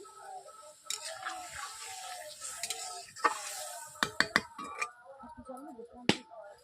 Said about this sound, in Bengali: সর্ষের ঝোলটা ফুটছে তাতে আমি মাছগুলো দিয়ে দিচ্ছি